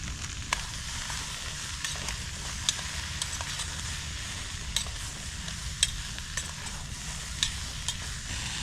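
Courgette pieces going into a Thai green curry on a Trangia 27 camping stove in the woods, giving a steady close sizzle and bubbling with faint stirring clicks throughout.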